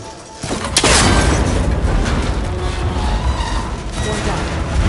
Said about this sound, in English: That connector's holding the cables together. It should break if we shoot it.